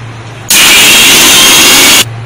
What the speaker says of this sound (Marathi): आणि परत एकदा मिक्सरमध्ये वाटून घेऊया